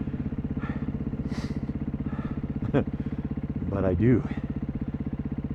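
A Beta 500 dirt bike engine thumps steadily on a slick spring trail in Colorado. The close, even putter swells briefly as the throttle opens, while someone speaks over it.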